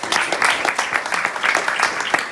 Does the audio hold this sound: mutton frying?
no